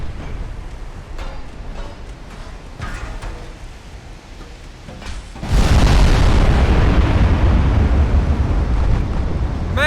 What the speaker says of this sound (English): Massive hit on the battleship